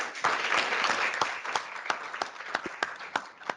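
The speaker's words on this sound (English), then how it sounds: "let's give them a mighty big round of applause" Audience applause for presenters closing out a public employment programme seminar: a steady wash of clapping with sharper individual claps standing out, moderately loud, lasting the whole few seconds with no talk over it.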